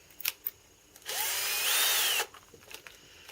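A power drill whines steadily for about a second as it bores a tapping-size hole into metal, with a few short clicks and knocks before and after.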